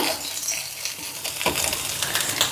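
Ginger, garlic and green chillies sautéing in hot oil for vada pav, a steady close sizzle and crackle with stirring scrapes, growing louder toward the end, no talk.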